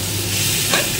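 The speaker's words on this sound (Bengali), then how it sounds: "সেই সবজিগুলো দিয়েও আমি আবার ভাজবো" Vegetables sizzling in a pan with black mustard seeds while making spicy semolina upma, a steady close frying hiss with a brief stir near the end.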